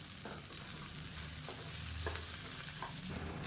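Bay leaves, mint, dried red chillies and grated coconut sautéing in a pan, a soft, steady crackling sizzle with occasional stirring scrapes, quiet and close with no voices.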